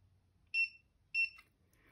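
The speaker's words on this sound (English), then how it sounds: "Until it beeps." A diamond tester being calibrated gives two short electronic beeps about half a second apart, clear and close against a quiet background.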